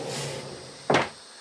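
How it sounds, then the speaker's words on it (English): A sliding bathroom door in an Airstream trailer rolls along its track, a soft glide ending in a single close thump, near and alone. "We went ahead and did a sliding door."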